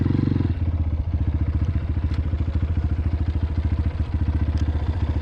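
A motorbike engine runs on a flooded trail, its close, loud pulsing idle holding a steady rapid rhythm after an opening rev.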